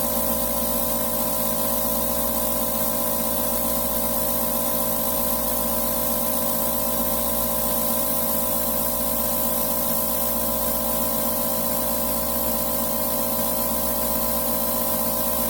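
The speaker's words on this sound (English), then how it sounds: "I'm going to give it a light spritz while I turn it around." A light spritz of spray paint is applied to the waist part of a 1/144 HG Gundam plastic model while it is turned, heard as a steady, loud, hissing spray lasting throughout with no pauses.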